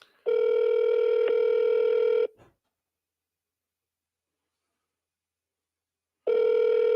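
Steady telephone call tone with a harmonic buzz, sounding for about two seconds, then a long silence before it starts again, loud and close with no talking.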